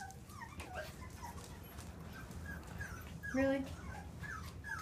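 Texas Heeler puppies whimper and yip in high, thin whines throughout, with a louder whine partway through, over low background noise and a brief voice.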